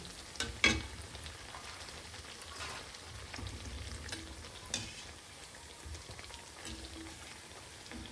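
Maize vadas deep-frying in hot oil, with quiet continuous bubbling and crackle and a few sharper pops and clicks scattered across it.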